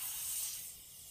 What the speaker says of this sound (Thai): เดี๋ยวใส่น้ำนิดนึงกระทะจะไหม้ครับกระทะจะไหม้ไหม้ละไฟมันร้อน